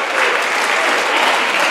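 Theater crowd giving a loud, close round of applause, a dense wash of many hands clapping steadily without a break.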